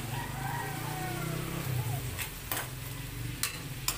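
Crab and shrimp being stirred in a pot, a steady sizzling bubbling bed with a few sharp utensil knocks against the pot toward the end.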